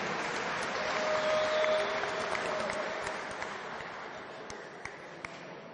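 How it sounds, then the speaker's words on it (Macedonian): An audience at an international fight tournament final in Skopje applauds in a hall with steady, sustained clapping that slowly fades, with a few sharp taps near the end. "Со еден аплауз да го поздравиме"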